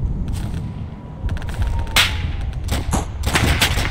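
Video game gunfire crackles in short bursts, several sharp shots clustered near the end over a dense, steady background rumble.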